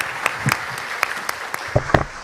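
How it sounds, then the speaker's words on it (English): Sparse applause from a conference audience at an international biomedical session, a few separate, distinct claps spread irregularly across a couple of seconds, moderately loud and close. "Please give him a big round of applause."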